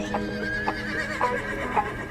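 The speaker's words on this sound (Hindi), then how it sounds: "सिकंदर ने पोरस के पीछे घोड़े दौड़ाए।" Several horses whinny in quick succession, repeated neighs rising and falling over a steady background rumble of horses on the move, fairly close and with no talk over them.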